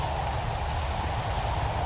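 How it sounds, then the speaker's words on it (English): Acid rain in the Roblox video game falls as a steady, dense hiss of rain, loud and unbroken across the short stretch with no voices over it. "Raining acid. Acid rain."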